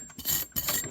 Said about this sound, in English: clean just some of this rust off this wire brush